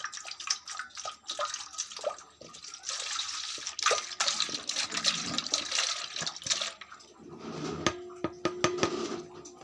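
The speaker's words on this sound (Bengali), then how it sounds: "দুধটাই গামলার মধ্যে নিয়ে নিচ্ছি।" Half a kilo of milk pours into a metal bowl in a home kitchen, a steady liquid splash broken by clinks and clatter of the vessel, with no talking.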